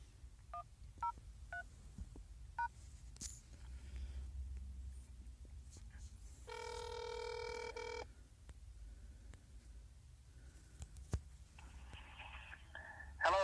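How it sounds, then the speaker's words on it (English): Telephone keypad tones dialing an extension on an office phone system: a few short separate beeps early, then one longer steady dual-tone burst, with faint background hiss and brief clicks. "Please enter the destination extension number, then press pound."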